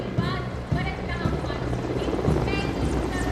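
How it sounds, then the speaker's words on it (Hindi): Two Mi-17 helicopters fly over the Red Fort during India's Independence Day ceremony, showering flower petals. A continuous rotor drone with rhythmic thumping pulses runs beneath a voice speaking throughout. "इधर आकाश में दो Mi-17 हेलीकॉप्टर्स आकाश से पुष्प वर्षा करते हुए"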